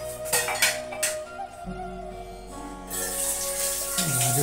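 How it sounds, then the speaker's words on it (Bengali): Water runs into a pot in a home kitchen to measure it for tea, starting as a steady rushing pour after a few light clinks of cookware, close and moderately loud. "আর চায়ের জলটা মেপে নিই"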